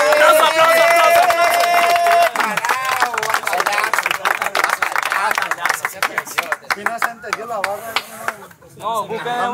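Many hands clap from a crowd at a rap battle, sharp dense claps pulsing under shouting and cheering, the crowd staying loud as the applause thins toward the end.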